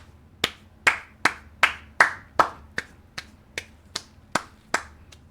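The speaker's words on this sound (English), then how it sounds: "Please clap on your end, please, everyone, please." About a dozen sharp hand claps in a steady rhythm, close and clear, with no talking.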